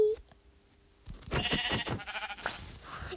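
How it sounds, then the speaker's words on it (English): Sheep bleating in Minecraft survival mode, a couple of short game bleats rising after a quiet start, fairly loud and close with a faint tone and clutter beneath. "Come here, sheepy."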